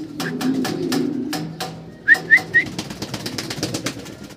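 Andalusian-coloured German Beauty Homer pigeons, a pair, giving a few short rising whistle-like calls over low cooing, with soft handling noises and light clatter around them.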